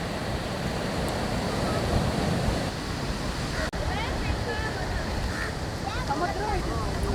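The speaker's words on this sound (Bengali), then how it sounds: "ভালোই স্রোত আর ভালোই ঢেউ, প্রবল ঢেউ।" Strong ocean surf at Poovar beach, a continuous broad roar of breaking waves with wind buffeting the microphone and people talking faintly nearby.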